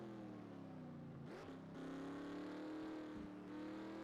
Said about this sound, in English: you can hear how the car hits that rumble strip there